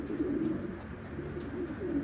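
Racing pigeons in a loft in Utah cooing softly and repeatedly, a low, quiet burbling close by with no other sounds.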